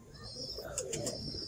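Pigeons coo softly and low under faint chirps and rustling, a short, quiet stretch of bird sounds.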